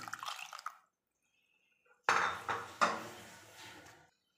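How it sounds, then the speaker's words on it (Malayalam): Water added to a ground coconut paste for a Kerala fish curry: a few soft clinks and splashes, then a short pouring, dripping burst that fades, all close and quiet, with silence between. "കുറച്ച് വെള്ളം കൂടെ ചേർക്കാം."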